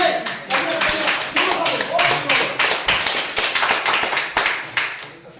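Audience at a business meeting clapping in rhythmic unison, a close series of sharp regular claps about twice a second, with voices faintly mixed in.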